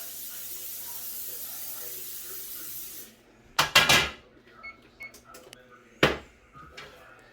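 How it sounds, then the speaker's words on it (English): A few short hissing bursts of cooking spray onto a seasoned pizza pan for a pickle pizza, close and fairly loud, following a steady background hum that cuts off. "Here's our pizza pan, all nice and seasoned, but we still spray just in case."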